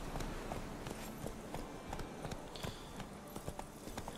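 Hooves of Roach, the horse in The Witcher 3, clip-clop in a quick, steady rhythm across the ground, close and moderately loud over a noisy game background, with no talking.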